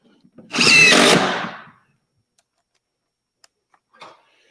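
A power drill drives screws into the corners of a panel during seam work, with one loud close whirring burst of about a second that tails off, followed by a few faint clicks and taps.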